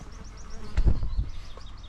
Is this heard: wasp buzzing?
yes